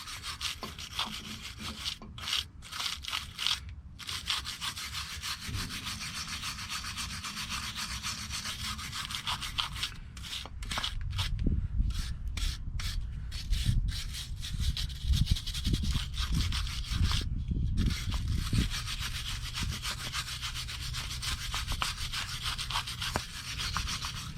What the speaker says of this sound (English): I had a brush. Just get any loose rust or anything out of it.